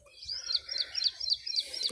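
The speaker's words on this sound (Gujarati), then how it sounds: "ખેતરમાં બહુ સરસ વાતાવરણ મિત્રો દેખાય છે અને અલગ અલગ પક્ષીઓના અવાજ પણ સંભળાય છે" Several different birds chirping in a cotton farm field: short, bright tweets repeat about every quarter second, moderately faint and steady, with no voices.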